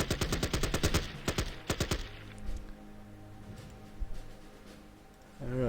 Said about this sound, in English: targeting that space with a suppressive fire